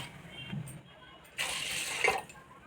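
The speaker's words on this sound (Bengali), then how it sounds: "এই বাটির মাপে আমি 2 বাটি জল দিয়ে দেব" Water pours into a pressure cooker holding rice in a home kitchen, a brief soft splashing rush lasting under a second, with faint background noise before it.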